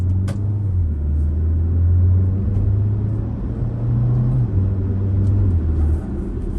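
A 2022 Porsche Macan SUV with 260 horsepower accelerates from a stop, its engine a steady loud low drone that climbs through the gears with rising pitch, heard from inside the cabin with no talking.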